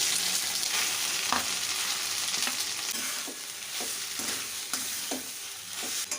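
Grated carrots fry in ghee with cinnamon sticks, cardamom pods and bay leaves for carrot halwa, giving a steady close sizzle broken by repeated scraping stirs of a spoon across the pan.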